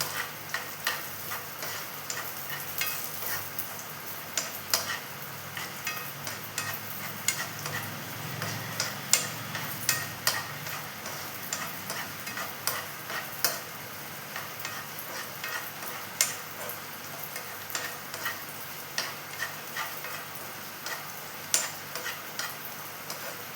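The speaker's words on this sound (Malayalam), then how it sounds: "എല്ലാം കൂടി നമുക്ക് ഒന്ന് നെയ്യിൽ വഴറ്റിയെടുക്കാം" Soft, steady sizzling of chickpeas, cashews and raisins frying in ghee, with faint scattered ticks and scrapes of stirring throughout; quiet and close, no talking.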